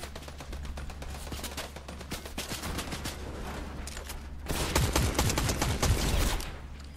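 Rapid gunfire rattles through a Fortnite match, dense and continuous across the whole stretch, growing louder and heavier toward the end, with no talking over it.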